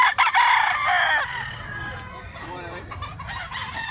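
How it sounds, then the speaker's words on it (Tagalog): A rooster crows loudly and close by in Mantalungon, Barili, Cebu, one long drawn-out call that fades, followed by softer clucking from nearby fowl. "Napakagwapong manok."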